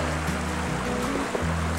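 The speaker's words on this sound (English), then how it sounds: "Now with the water running over red stones." Water rushes steadily over red stones in Iceland, feeding a waterfall, in a continuous, close hiss and gurgle with a low murmuring undertone.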